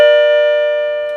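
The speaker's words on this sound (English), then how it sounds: "And now we'll ring 3 notes." An M&S MC602 radio intercom master station's chime module sounds in its three-note mode, a bright electronic tone ringing loud and sustained, gradually decaying, with a faint click near the end.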